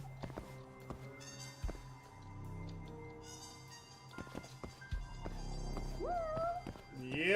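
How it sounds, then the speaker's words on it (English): A cat meows a few times in a cozy video game, short rising calls near the end over game music, soft footsteps and taps, with some talk in the background. "Is there a meow? I heard it too."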